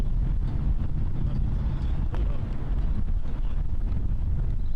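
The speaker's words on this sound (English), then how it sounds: "That wind is starting to rip there." Strong wind blows across a disc golf course in a steady, heavy rumble that buffets the microphone throughout, with no break.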